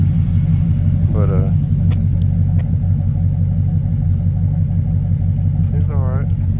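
A 1996 Impala SS with freshly replaced spark plug wires idles with a steady, deep, even rumble close by, with a couple of brief voice-like sounds over it.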